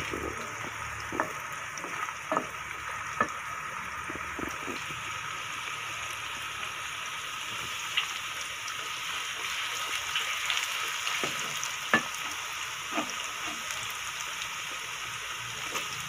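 Onions fry in a pan for aloo mongray, giving a steady, even sizzle with occasional soft pops and crackles, heard alone with no voices.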